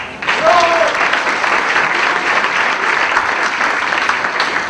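Full audience applause at a 2006 rock night gathering at MALI greeting a newly introduced journalist, rising quickly and holding steady and loud to the end.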